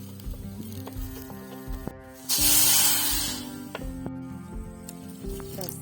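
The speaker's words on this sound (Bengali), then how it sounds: "এইটার বাটিটার মাপেই আমি এবারে জল দিয়ে দেবো।" Water poured over sugar in a bowl to make syrup, a steady splashing rush of a few seconds over a constant background hum and faint clatter.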